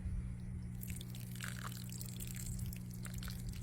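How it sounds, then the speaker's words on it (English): Water from a watering jug pours onto potted seedlings and plants in a backyard aquaponics garden, a soft, steady trickle and splash heard close up with no talking. "So we're going to water these guys real quick."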